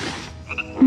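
A single short frog croak sounds close and clear in a brief moment between other noises, with no voices.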